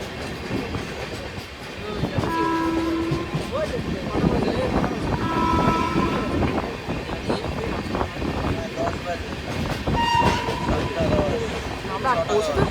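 Kanchenjunga Express (13174) rolling through Bidhannagar Road station: a steady rumble and rattle of coaches with tonal horn-like blasts rising above, heard from on board with voices talking nearby.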